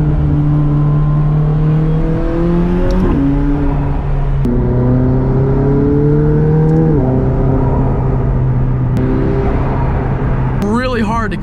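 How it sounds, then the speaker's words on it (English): A Jeep Gladiator engine revs and holds high, its steady drone rising in pitch with a whirring turbo whine over it, loud and close, with a brief chirp near the end. "all you hear are the turbos"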